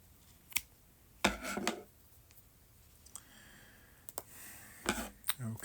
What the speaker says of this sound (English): And then I'm going to trim that.